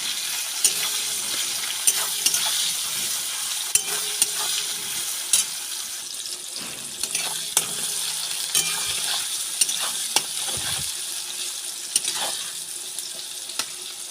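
Chopped onions, two medium ones, fry in a pan with chilli, bay leaf, whole garam masala and cumin, a continuous bright sizzle broken by regular scraping strokes of a spoon stirring them, close and alone.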